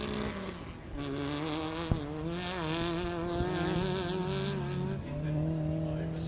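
A 2.4 litre Honda-powered racing buggy sits at the start line of a desert race, its engine droning loudly and steadily with rising and falling harmonic revs throughout, a couple of sharp clicks standing out.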